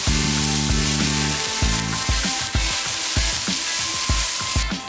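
Dill going into a hot pot of browned ingredients, close and steady: a loud, continuous sizzle and crackle, broken by irregular low thumps and knocks that come with stirring and tossing the herbs.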